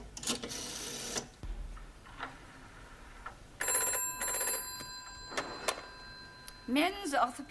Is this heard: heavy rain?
no